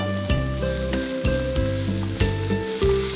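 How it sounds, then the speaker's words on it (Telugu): Onion, chilli, carrot and cumin frying together in a pan, a loud, steady sizzle with rhythmic scraping strokes of stirring about every half second, close up and without speech. "ఆనియన్, మిర్చి, క్యారెట్, జీలకర్ర అన్నీ ఒకేసారి వేసుకొని మనం వేయించుకోవడమేనా?"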